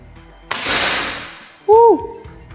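Single sharp air rifle shot with a loud hissing burst that decays over a second, followed by a short, loud pellet impact on a target with a brief ringing tone.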